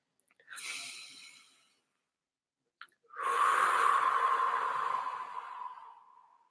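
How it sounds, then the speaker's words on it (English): Two slow deep breaths from one person during a guided relaxation at a live tarot reading: a short airy inhale, a pause, then a long, fuller exhale that fades out. Close and fairly quiet, with no talking. "take a few deep breaths"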